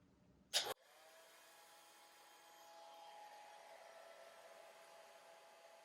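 A hair dryer blows on wet watercolor paint in an eagle painting, a steady close whooshing hum that starts abruptly after a short click and holds evenly, rising slightly.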